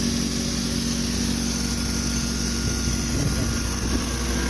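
A Honda gasoline engine powers a pressure washer, running at a loud, steady drone that holds an even pitch throughout, close by and without speech.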